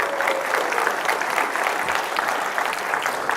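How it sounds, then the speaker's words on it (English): A crowd claps steadily and enthusiastically, a dense patter of applause filling the whole moment without pause. "let's round of applause for the engineers for that one."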